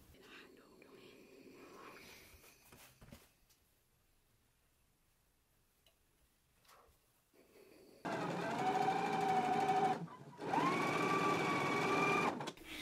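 A sewing machine stitches down a pressed folded seam edge on a garment, running in two loud, steady bursts separated by a brief pause, after a quieter stretch of soft, faint sounds.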